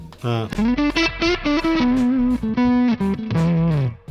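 Fuzzy, distorted electric guitar played through a TC Electronic Combo Deluxe 65 amp with the gain pushed, loud choppy phrases of chords and single notes separated by short gaps.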